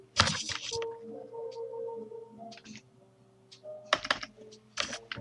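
Someone types a search term on a computer keyboard in bursts of clicky keystrokes, with quiet gaps between clusters of taps, close and alone.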